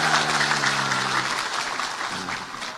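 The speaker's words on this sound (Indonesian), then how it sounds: "Tepuk tangan untuk Polres Sleman." Audience applause at a live gathering at a boarding school, a dense wash of clapping that holds steady for nearly three seconds and slowly thins toward the end, with a low voice fading under it at the start.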